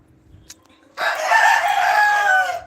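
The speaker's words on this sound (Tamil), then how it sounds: "நம்மளுடைய கோழிங்களும் பயங்கர சத்தம் கொடுத்துட்டே இருக்கிறாங்க" A rooster crows loudly and close by in a single long, drawn-out call lasting over a second, after a few faint clucks and small noises from chickens.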